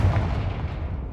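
A Confringo spell blast explodes in Hogwarts Legacy, a heavy booming burst with a deep rumbling body that fades quickly, loud and close.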